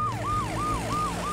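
A cartoon ambulance siren wails in a steady rising and falling cycle, loud and close, repeating about three times in quick succession with no talk over it.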